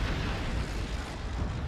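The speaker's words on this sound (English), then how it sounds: "Because the heavies are so heavy, they actually produce some serious recoil blasts" Heavy weapons on an FNR-6U Fafnir mech in MechWarrior Online let off a deep, continuous recoil blast, a loud, dense roar of rumbling low-end that holds steady throughout, with no voices.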